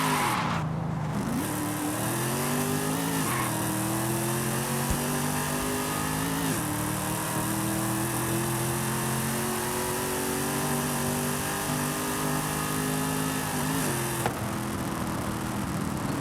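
Corvette Z06 drifting in Forza Horizon 5, its engine holding a steady loud roar with harmonic revs rising and falling while the tires burn and squeal continuously throughout.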